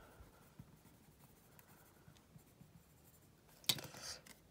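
Pen or pencil scratches softly across paper while a handwritten note is jotted down, a faint, intermittent scribbling close by, followed by a brief louder rustle or tap near the end.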